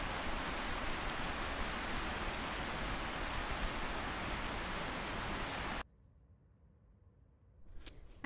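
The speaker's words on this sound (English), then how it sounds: "listen to the river rush by" A river rushing by in Hartford, Tennessee, a steady broadband roar that cuts off abruptly to near quiet before a few faint sounds near the end.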